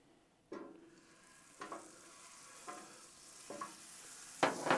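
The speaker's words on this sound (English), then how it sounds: "Instead of oil, I'm gonna throw down a few pats of butter." Pats of unsalted butter melt on a hot Blackstone flat-top griddle. A soft hiss rises and holds, broken by several distinct taps or scrapes spaced about a second apart. It is fairly quiet and has no talking.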